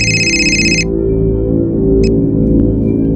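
A phone rings with a bright electronic tone that stops abruptly, followed by a brief second chirp over a steady low hum in an indoor room.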